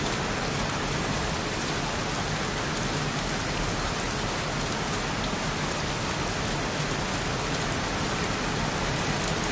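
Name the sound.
rain falling in a video game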